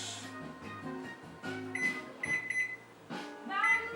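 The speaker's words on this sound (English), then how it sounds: "So I'm going to use my timer function on my microwave here. Set it for 30 minutes." Microwave timer being set for 30 minutes, giving a few short electronic beeps against kitchen background noise.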